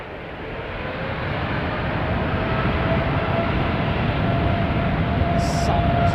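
An airliner takes off at London Heathrow Airport with a steady, loud jet roar that builds and then holds, and no voices over it.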